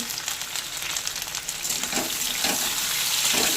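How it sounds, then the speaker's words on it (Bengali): Diced potatoes fry in mustard oil with five-spice seeds in a wok, a close, loud, continuous sizzle with bursts of crackling as the pieces are stirred. "দিয়ে দিচ্ছি ডুমো করে কেটে রাখা আলু"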